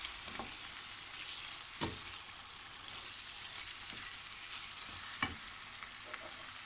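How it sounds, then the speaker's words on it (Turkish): Rice sautéing in a pan for stuffed dolma, a soft steady sizzle with occasional sharp scrapes of stirring, close and alone. "Pirinçlerimiz de güzelce kavruldu."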